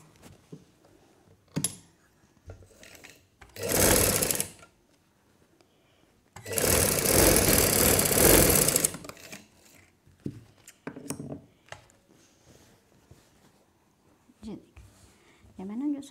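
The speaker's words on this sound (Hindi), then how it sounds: "ऐसे सिलाई लगा।" Electric sewing machine stitching a baby girl's frock, running in one short burst and then a longer steady run of several seconds, with someone talking softly between the runs.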